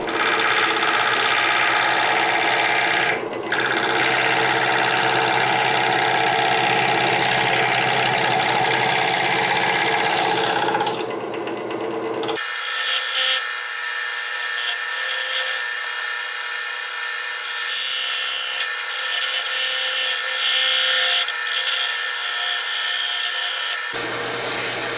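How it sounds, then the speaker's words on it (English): Wood lathe spinning a square bowl with wings while a sharp scraper hogs out wood on the bottom, a loud steady grinding rasp with a sudden shift in tone midway, continuing to the end. "to hog out the wood on the bottom with the scraper."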